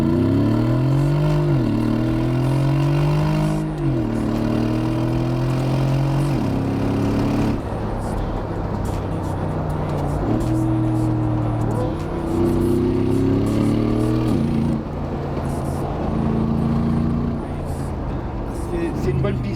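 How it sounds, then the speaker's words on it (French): A twin-turbo V8 engine in a Mercedes G63 Brabus drones loudly up close, its pitch climbing and dropping through several gear changes, with a voice talking over it. "un gros moteur avec un gros V8, 2 turbos"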